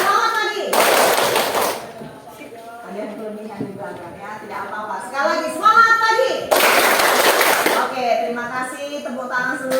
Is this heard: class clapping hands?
yes